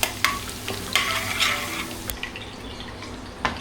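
Finely chopped garlic cloves stirred in a hot oiled pan: a close, steady sizzle broken by several sharp scraping and clinking strokes of a utensil against the pan, with no talking.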